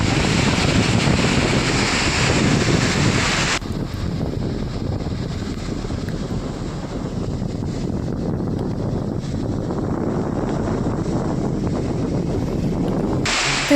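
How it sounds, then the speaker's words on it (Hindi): Water pouring over the waste weir of Maniyari reservoir dam during heavy monsoon rain, a continuous loud roaring rush mixed with wind buffeting the microphone, steady throughout with no voices. "बांध के वेस्ट वियर से भी पानी बहने लगा"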